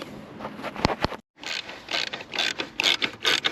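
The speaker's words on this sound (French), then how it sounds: "clé de vis, une clé de vis assez profonde" A deep socket wrench loosening the seat nuts on a 2022 Tesla, giving quick ratcheting clicks in short close bursts separated by a brief silent pause.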